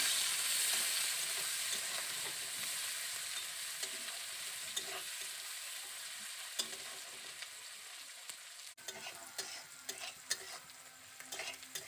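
Chopped onions fry in a pan for ghugni, a steady bright sizzle running throughout with occasional stirring scrapes and clicks, close and continuous with no talking.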